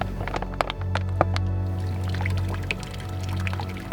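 Water dribbles and trickles out of the side of a new Sawyer backpacking water filter, with small irregular drips and splashes over a low steady hum.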